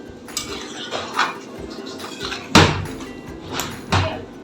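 Radish sour curry being stirred in a cooking pot after the tempering goes in, with a few loud metallic clanks of utensil against pot and softer scraping between them, close and without talk.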